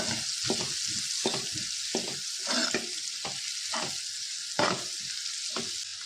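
Onion and masala fry in a pan, a bright steady sizzle broken by repeated stirring strokes at a regular pace, close and clear with no talking.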